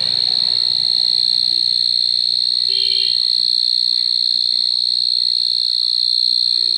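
A cricket's steady, high-pitched continuous trill, loud and close, with a brief faint chirp from something else partway through.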